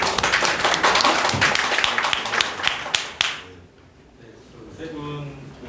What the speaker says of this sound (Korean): 큰 박수로 네, 맞이해주시겠습니다.